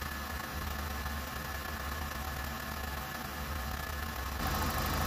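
A warm car engine runs steadily, giving a faint, even hum with a hiss of broadband noise and no change in speed.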